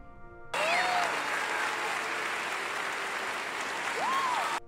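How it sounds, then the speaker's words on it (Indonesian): An audience claps warmly after a team's presentation at a competition. The dense, lively applause starts abruptly and holds steady for several seconds before cutting off, with a voice briefly audible over it. "Semua penonton memberikan aplaus yang meriah mendengar presentasi dari tim Afgan Dreamers"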